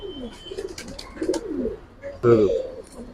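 Several Giribaz pigeons coo softly and repeatedly nearby at a loft in Old Dhaka, with one louder throaty coo near the end, amid faint background voices.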